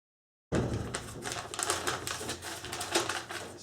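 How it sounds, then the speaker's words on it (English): A rolling pin presses butter flat inside folded parchment paper for puff pastry dough, a close, continuous crackling and rustling with rapid irregular crinkles and thumps. "I put the butter in it. I'm going to fold it this way on top. And using my rolling pin here, I'm going to flatten it."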